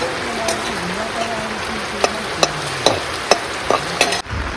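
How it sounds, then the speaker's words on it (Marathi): Heavy rain pours in a dense, steady hiss, broken by sharp drips and knocks striking a surface, while a faint voice murmurs underneath. "इतकं बेकार पाऊस आलाय ना"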